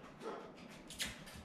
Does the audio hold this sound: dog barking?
yes